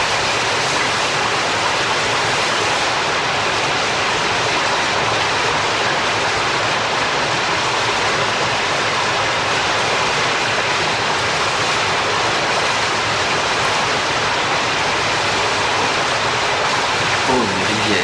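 River water flows in a steady, dense rush that stays even for the whole stretch, with a faint murmur of voices underneath.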